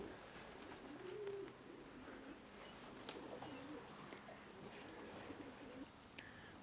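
Racing pigeons coo softly on their return to the loft, with low repeated coos scattered over quiet outdoor ambience and a few faint chirps.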